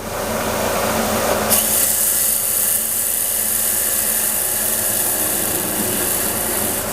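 A lathe facing a nut down by one millimetre, with a steady metallic cutting hiss and machine whine running continuously and close, brightening a little after the first second and a half.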